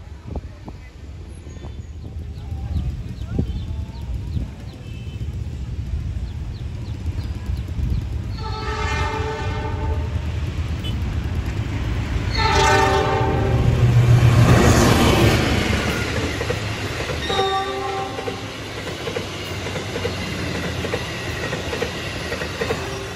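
A train passes through the busy Cimekar railway station, its horn sounding in several loud tonal blasts over a steady rumble of wheels and rail noise, with crowd and platform ambience throughout.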